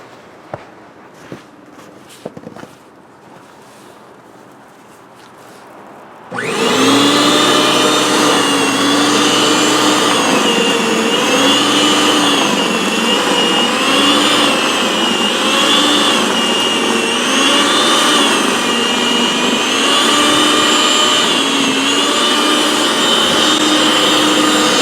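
A Snow Joe 625e electric snow blower clears deep, settled snow. Faint footsteps and shuffling come first, then the motor starts abruptly and runs loud and steady, with a rhythmic rise and fall as it is pushed back and forth.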